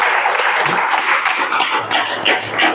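Loud classroom clapping from students at a police recruitment coaching class, a dense steady patter of many hands lasting a few seconds, with no speech over it.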